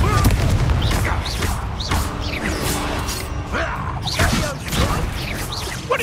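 Confringo explosion spell in the Hogwarts Legacy video game, loud booming blasts and crashing impacts layered with magical whooshes in a dense, continuous barrage of combat noise.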